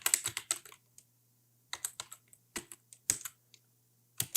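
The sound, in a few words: typing an SSH command on a computer keyboard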